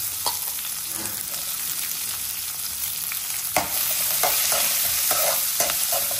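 Small onions sizzle in hot oil with fennel seeds and curry leaves while a spoon stirs and scrapes the pan, a steady close frying hiss broken by sharp clinks and stirring strokes, with no talk.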